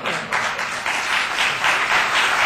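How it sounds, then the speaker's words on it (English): An audience claps at a city council meeting, with a steady patter of many hands that rises and falls in soft waves for a couple of seconds, with no talking. "I'm going to ask you not to clap."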